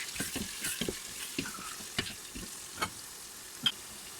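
Chicken pieces frying in a pan for a Tunisian noisettes-style chicken dish, with steady close sizzling broken by sharp spattering pops and scraping stir strokes, no talking.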